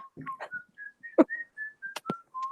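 Someone whistles a light, wandering tune as he walks in, a string of short bright notes and held tones with soft rustles and footfall-like thumps beneath, fairly close and clear.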